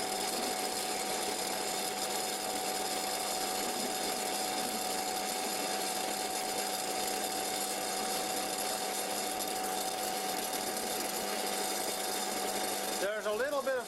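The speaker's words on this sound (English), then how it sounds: "the lathe is a bit shaking because of the motor" An antique Karger metal lathe runs steadily on its motor, a continuous close whirring hum with faint chatter that holds for the whole stretch before a brief change at the end.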